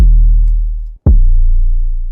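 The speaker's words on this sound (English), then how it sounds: "So I went with this Ghost 808, and that's going to sound like this, isolated." A Ghost 808 bass sample played isolated: two deep, booming sub-bass hits, the first sustaining and slowly fading before a brief cut, then a punchy second strike that decays, loud and alone.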